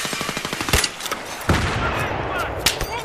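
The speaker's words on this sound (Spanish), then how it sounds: "Me están disparando" Rapid automatic gunfire in Battlefield 3 on the Torre de Ziba map: several fast bursts of shots rattle close and loud, with sharp cracks standing out between the bursts.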